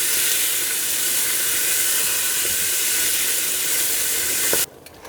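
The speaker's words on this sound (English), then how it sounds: "I'm going to let that saute for about 5 minutes until the onions are nice and soft" Onions sauté in a pot for Swiss chard soup, a dense, steady sizzle and hiss heard up close, cutting off abruptly to quieter background just before the end.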